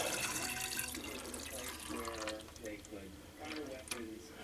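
Water siphoned through a hose into 2-liter plastic pop bottles for settling homemade modeling clay, a steady pouring and filling wash with rising gurgles, heard under a man's speech.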